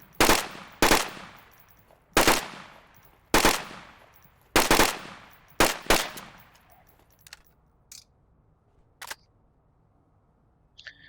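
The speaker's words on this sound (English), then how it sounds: "the full auto, its rate of fire is perfect for those 2-3 round bursts." Volk rifle firing on full auto in a video game: several loud, sharp bursts of two or three rounds each in quick succession, then fainter clicks and mechanical handling sounds as the firing stops.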